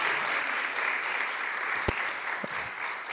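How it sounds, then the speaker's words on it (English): A lecture audience applauds steadily in a hall, a dense, even wash of clapping that holds throughout with no speech over it. "Can we give the Hammonds a wonderful round of applause?"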